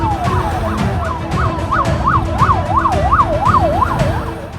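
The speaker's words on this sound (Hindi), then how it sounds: "वहां की फिजाएं सिर्फ पुलिस सायरन की आवाज से गूंज रही थी।" Police sirens of a UP Police convoy passing through Gujarat wail loudly and close, a rising-and-falling tone speeding into a rapid yelp over road and engine noise, with no speech.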